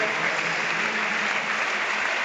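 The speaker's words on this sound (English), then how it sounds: "who gets a really good round of applause" Football crowd at a Barnsley versus Leeds United Championship match applauding Luke Thomas as he is substituted, a dense, steady roar of clapping throughout.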